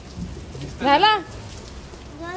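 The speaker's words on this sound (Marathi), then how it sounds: "बाहेर पाऊस पडतोय, दिसत असेल तर बघा" Rain falling outside on a Diwali evening, a steady soft hiss of drops heard throughout, with a short burst of voices in the middle.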